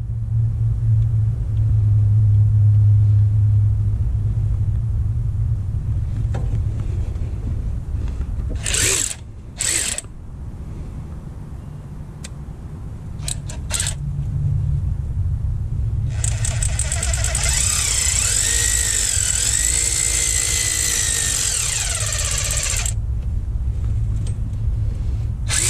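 An electric ratchet runs bolts into the engine of a Chevy Trailblazer during a water pump replacement, giving a loud, steady mechanical whir of about six seconds over low garage rumble, with a few shorter tool bursts before it.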